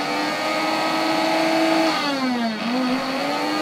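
An electric kitchen blender whirs steadily at close range, its motor pitch dipping and rising briefly partway through and then settling back, with no talking over it.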